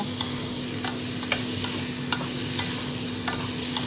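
Indo-Chinese vegetables for gobi manchurian stir-fry on a high flame, a dense hiss of sizzling broken by sharp scraping stirs at an irregular beat, with a steady hum beneath.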